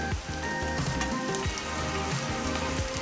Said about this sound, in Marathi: हा थोडासा कांदा शिजत आला की त्यामध्ये आपण हा जो पातीचा कांदा आहे तो घालणार आहोत।